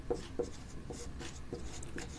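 Pen or marker strokes on a board during a class lecture, a handful of short scratchy rubs and taps in an uneven rhythm, quiet and close, with no voice over them.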